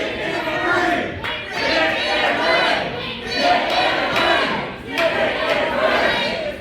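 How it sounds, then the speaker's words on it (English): A wrestling crowd chants in loud rhythmic bursts, roughly one chant every second or so, with the arena voices swelling and dipping in a steady repeating pattern. "This crowd even chanting for Tim to get in the ring"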